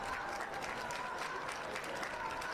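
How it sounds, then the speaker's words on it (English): Crowd and dugout clapping together at a 2A high school baseball championship game, a dense, steady wash of applause sustained throughout, heard from some distance across the field. "Here comes the 2-strike clap from the South Sevier dugout and crowd with 2 outs"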